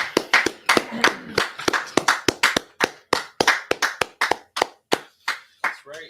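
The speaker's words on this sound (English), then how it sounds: "alright, clap it up, everybody clap it up" A class group at an I.S.U.P.K. history class in San Antonio claps hands in sharp, distinct strikes, several loose bursts of claps repeating steadily for the whole stretch, close and loud.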